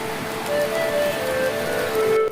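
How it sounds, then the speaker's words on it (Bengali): A heavy monsoon downpour falls over Dhaka city. It makes a loud, steady, dense hiss of rain with a faint tonal hum underneath, and no voices. "কিছু বুঝে ওঠার আগেই হঠাৎ করে ঝরছে মুসলধারা বৃষ্টি"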